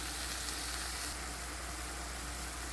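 Ful beans sautéing with garlic and ginger in a pan give a dense, continuous sizzle, close and steady throughout with no pauses.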